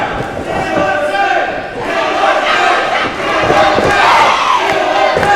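A wrestling crowd roars steadily for Killa Kate during a Reality of Wrestling match, dense cheering and yelling filling the arena with thuds from the ring mixed in.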